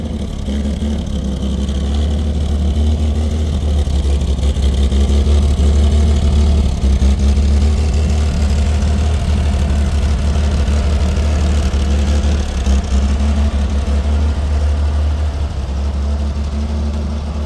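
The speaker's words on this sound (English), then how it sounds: "So if the idle comes down too far, it may just die again, but try not to let that happen" A 1964 Chevrolet Corvair Monza 110 engine idles in a steady, even low rumble that holds close and loud throughout, with no voices over it.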